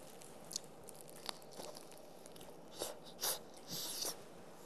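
Quiet close-up eating of spicy bibim fried chicken, with soft crunchy bites and chewing at irregular intervals, a couple of louder crunches near the end, and no talking.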